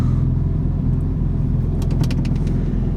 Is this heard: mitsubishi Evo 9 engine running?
yes